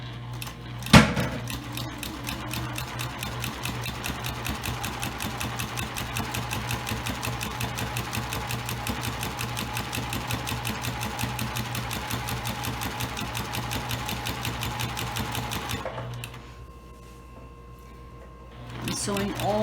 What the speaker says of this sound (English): And I'm going to continue to sew now.